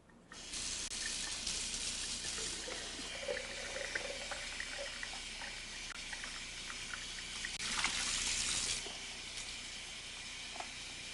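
A running tap pours warm, soapy water to wash out a portable sprayer jar, a steady close splashing stream with a brighter burst of spray near the end.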